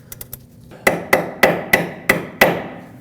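Hammer blows driving an Allen socket onto a stuck sway bar link nut on a 2006-2015 Lexus IS250: three light taps, then six loud, sharp metallic strikes at a steady pace, close and ringing.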